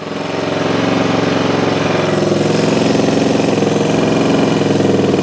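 A Honda XR400 motorcycle engine runs steadily after a long kick-start struggle, its loud, close, continuous thrum holding a fast even pulse throughout with no voices over it.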